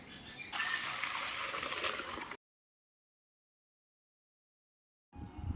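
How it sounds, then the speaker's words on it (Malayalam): Boiled water pours and gushes off cauliflower pieces through a strainer for about two seconds, a steady loud splashing rush. It cuts to silence, then faint kitchen noise returns. "നല്ല ഒരു തിള വന്നതും സ്റ്റൗ ഓഫ് ചെയ്ത ഉടനെ തന്നെ വെള്ളം അങ്ങ് അരിച്ച് മാറ്റണം"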